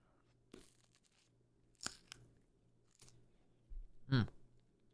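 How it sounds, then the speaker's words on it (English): Crunchy bites of salted fresh food being chewed close to the mic, a few separate crisp crunches spread across the moment with quiet pauses between, the loudest near the end. "I'm hoping you can't hear too much crunching"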